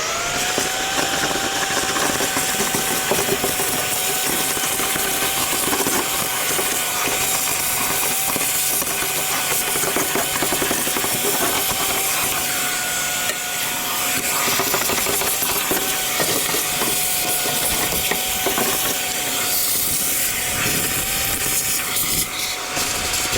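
A Comet pressure washer runs continuously while cleaning an old International Binder, a steady loud spraying hiss and motor drone with a faint whine, unbroken for over twenty seconds.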